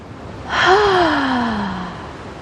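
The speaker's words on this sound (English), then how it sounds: "this time as we exhale, we're going to exhale out the mouth, an audible exhale" A single long audible exhale out through the mouth during a breathing exercise in a yoga flow on a beach, close and clear, with a voiced sighing tone that slowly falls and fades over about a second and a half.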